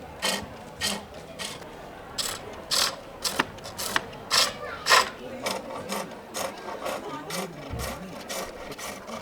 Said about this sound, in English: What I'm doing there is picking up a shaving with the heel of the skew